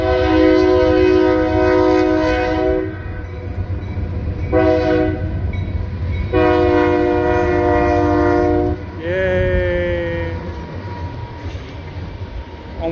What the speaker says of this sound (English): Turn around so you guys can see the train go by.